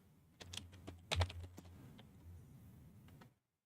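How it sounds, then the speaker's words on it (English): Rapid bursts of keystrokes on a computer keyboard, close and fairly quiet, with uneven clicks and a few sharper key hits, ending abruptly in silence. "What are you typing though?"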